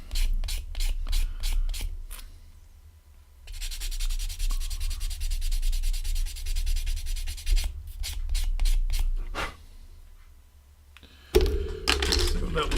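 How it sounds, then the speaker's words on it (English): Rhythmic scraping strokes of fine-grit sandpaper against a plastic model kit wing part, close and steady, with a longer continuous rubbing stretch in the middle and a clunk of handling near the end. "Using a fairly fine grit here because I'm just worried I'm going to sand away too much material."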